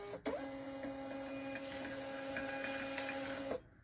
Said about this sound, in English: Hit the print button.